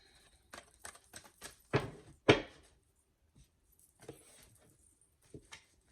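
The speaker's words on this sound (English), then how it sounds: "I always like to shuffle." Quick papery riffles and soft slaps of tarot cards being shuffled, with two louder bursts near the middle, then scattered lighter taps; close and fairly quiet.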